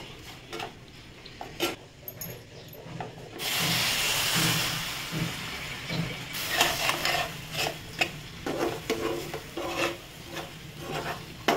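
Besan modak mixture with milk being sautéed and stirred in a pan: a steady sizzling hiss with repeated scraping and stirring strokes, close and moderately loud, with no talking.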